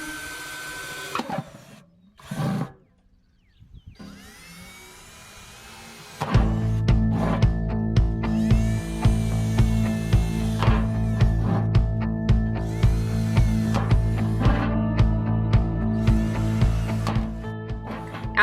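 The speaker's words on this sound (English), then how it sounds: "drill some holes into the bottom for drainage" A power drill whines in repeated short bursts, biting through the bottom of a galvanized metal container with a rattling, buzzing grind after a few quiet thumps and handling noises.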